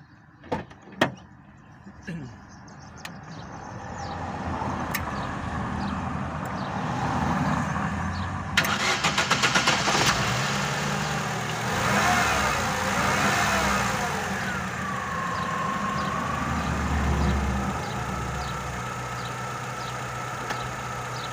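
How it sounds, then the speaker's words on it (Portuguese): A car running on CNG natural gas is started after a few clicks and thumps, then idles steadily nearby with a continuous hum while a person talks over it. "Vamos ligar o carro lá agora no GNV para ver."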